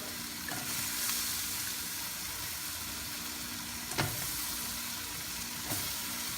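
Potato cooks with milkfish stew in a pan, a soft, steady sizzle and bubbling hiss throughout, broken by a few brief utensil knocks against the pan.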